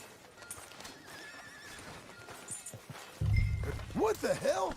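Horse hooves clopping and a whinny in the open-world western game Red Dead Redemption II, a loud neigh with pitch swoops near the end after steady hoofbeats, with talk in the background.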